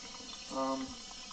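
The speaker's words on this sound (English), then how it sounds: "Just pouring out coffee." Coffee poured out from a container makes a short, soft splash and trickle near the middle, faint beneath a low background hum and a voice.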